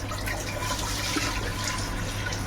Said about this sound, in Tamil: இப்போ பார்த்தீங்கன்னா நம்ம வந்து தண்ணி ஊற்றிக்கலாம்